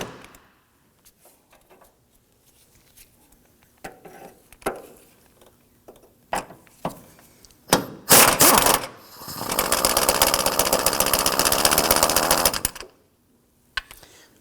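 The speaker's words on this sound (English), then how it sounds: "Now we're going to use our 15mm socket to loosen and remove this hardware." A 15mm socket loosens the front engine mount nuts on a 2008-2011 Ford Focus. Scattered light clicks and taps lead into a brief loud burst, then about three seconds of steady, harsh mechanical rattling close by, followed by quiet.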